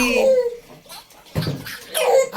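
A small child being bathed, with bursts of water splashing and sloshing against a tub, alongside a child's babble and light laughter and an adult talking nearby.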